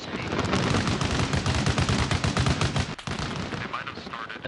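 Dense, continuous gunfire aimed at a helicopter in the video game Arma Reforger. Rapid automatic bursts overlap into a loud, sustained clatter, with a brief dip near the end.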